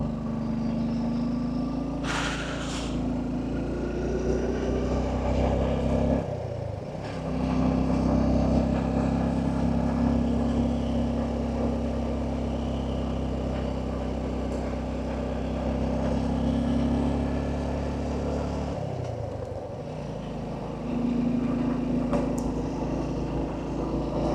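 A sport motorcycle riding a rough mountain road, its engine droning steadily near the microphone, with two short dips in the engine note like gear changes or throttle lifts, no talking.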